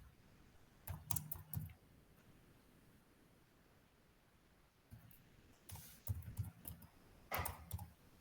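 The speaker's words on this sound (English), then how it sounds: "I'm typing here." Quiet bursts of typing on a computer keyboard during an online session, two clusters of rapid clicking keystrokes separated by a pause, close but faint with no speech.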